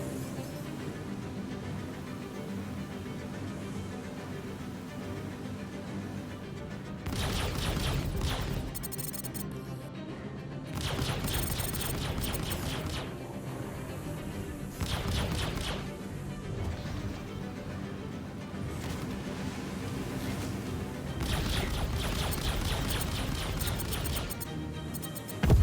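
Ship weapons firing in the Star Citizen video game, heard as several loud sustained bursts of rapid crackling fire lasting a few seconds each, separated by stretches of low ambient cockpit hum.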